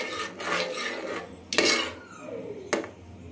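Spiced eggplant being stirred in a metal pan with coriander powder and chili powder, for Rayalaseema-style vankaya pulihora; a steady scraping rustle with two sharp utensil clinks against the pan, close and moderately loud.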